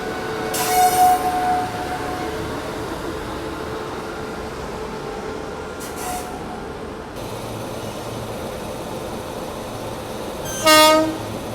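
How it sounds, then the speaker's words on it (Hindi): The Katihar Amritsar Express arrives at an Indian railway station with a steady rumble of rolling coaches, as two short blasts of the train horn ring out near the start and end and a fainter one sounds midway. "तो ये आई कटिहार अमृतसर एक्सप्रेस"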